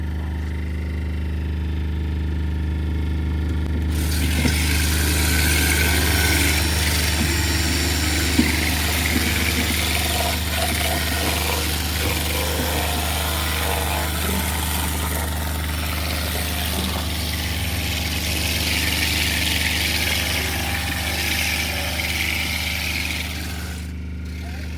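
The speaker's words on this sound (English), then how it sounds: "Bang that jet wash on. Our battery powered jet wash." Battery-powered jet wash running on an old ice cream bike, a steady motor whine and hiss of spraying water that holds throughout, with people talking over it.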